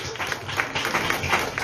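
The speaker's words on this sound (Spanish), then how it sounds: "Un aplauso, por favor." An audience at a youth pregnancy prevention forum applauds, a dense, steady patter of many hands clapping together for a short stretch, moderately loud with no single voice standing out.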